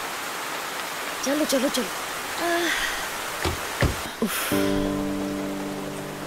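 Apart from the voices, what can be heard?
rain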